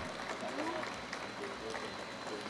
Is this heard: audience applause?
yes